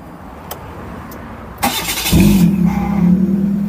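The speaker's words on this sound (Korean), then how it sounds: "자, 시동 켜졌습니다." A hand-built custom off-road Kia with a newly fitted fuel pump and fresh gasoline cranks briefly, then catches and settles into a loud, steady idle close by.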